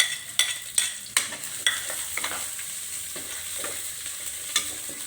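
Onion sautéing in a very hot pan (kawali) with steady sizzling, while a utensil scrapes and stirs in repeated close strokes at the start. No one speaks.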